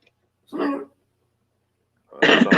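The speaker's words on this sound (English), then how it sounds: "Sounds like your dog is coughing." Two short, rough coughing bursts from a dog, one brief and then a louder, harsher one after a pause of silence.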